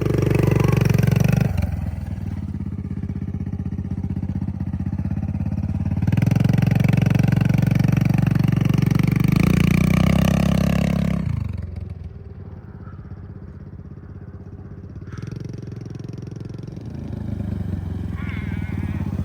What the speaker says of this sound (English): so long as you keep giving it gas, it'll keep going up